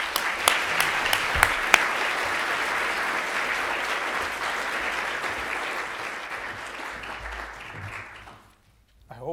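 An audience at an LSE lecture applauds to welcome the speaker, a dense, steady round of clapping from a large crowd. It fades over the last seconds into near silence.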